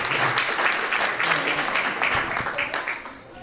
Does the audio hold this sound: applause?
yes